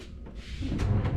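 A hotel room drawer holding a safe slides open, with a soft rolling scrape and a couple of light knocks and thuds as it comes out, heard close in a quiet room.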